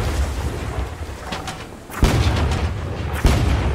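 Ship cannons boom in the pirate naval battle game Blazing Sails, firing flaming shots: two heavy, close blasts about a second apart, each over a constant loud rumble of battle noise.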